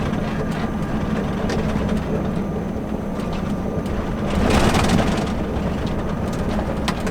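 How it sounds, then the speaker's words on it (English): From inside the cab of a Volvo FH 460 Globetrotter truck, a steady loud drone of the exhaust brake, with a brief rise in roar partway through. "It's the first stage of exhaust brake so that we bring the speed down to 30."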